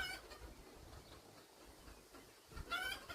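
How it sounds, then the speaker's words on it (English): A chicken on an allotment clucks faintly in the background, a few short calls, with a louder burst of clucking near the end. "I think one of the chickens is asking for my attention."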